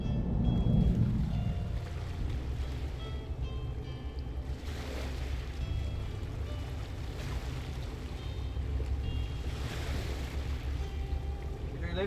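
Ship engines running at full power in a video game: a steady, heavy low rumble with a churning, watery wash on top. It holds loud and continuous throughout, with a brief swell at the start.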